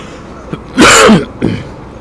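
A single harsh cough bursts out close by on a congested road to a market in Demak, Indonesia, bracketed by quieter breaths or throat sounds.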